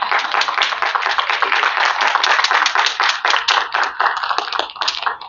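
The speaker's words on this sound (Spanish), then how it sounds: "Un aplauso." Brisk audience applause at a science talk during a book fair, many hands clapping in a dense, steady patter that holds strong and then tapers slightly near the end.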